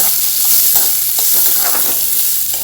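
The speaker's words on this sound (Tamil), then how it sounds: "வெங்காயம் போட்டு வெங்காயம் போட்டு நல்லா வதக்கலாம்" Onions sauté loudly in a pan with fennel seeds for prawn masala, a steady close sizzle with scraping stirring strokes throughout and no talking.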